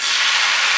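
Rava dosa batter is poured onto a hot, oiled tawa, giving a loud, bright, continuous sizzling hiss with no voices.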